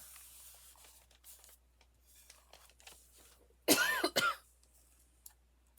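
Two quick, dry coughs close together, loud and near, with quiet room sound before and after.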